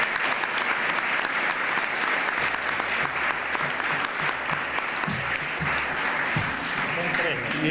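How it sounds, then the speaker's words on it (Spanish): Audience applause at a press conference, a steady wash of many hands clapping throughout, with some voices and low rumble mixed in beneath. "un aplauso para ustedes"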